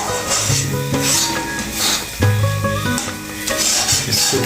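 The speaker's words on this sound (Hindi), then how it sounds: "इसको धीरे धीरे चलाते रहना है" Parwal curry stirred in a pan, a spoon scraping and clinking against metal over a steady sizzle, close and continuous.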